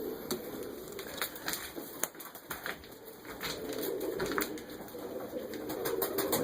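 Pigeons cooing by their nest, several soft calls repeating at a moderate distance over a steady, busy background with occasional wing or shuffling noises.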